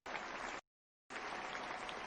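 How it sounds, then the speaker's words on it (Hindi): An audience bursts into loud, dense applause for a revered teacher named Kundan at a talk, the clapping cutting off abruptly, pausing for about half a second, then resuming just as strongly. "इनके लिए जोरदार ताली"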